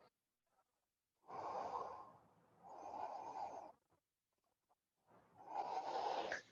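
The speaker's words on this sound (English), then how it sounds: "Two more breaths." Deep breathing during a yoga exercise: three slow, full breaths, each a couple of seconds long with quiet pauses between, close and fairly soft with no talking.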